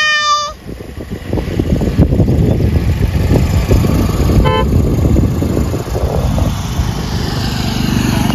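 A vehicle on the road behind rumbles with a loud, steady engine drone and road noise throughout, and a short horn toot sounds near the start with another brief tone midway.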